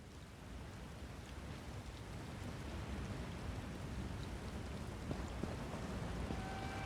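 Steady rain falls in Elder Scrolls Online, a soft continuous hiss that swells slightly, with a few faint drips and clicks near the end.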